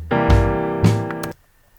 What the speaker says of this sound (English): uses alternating kick drum, snare drum, kick drum, snare drum. It will sound like this.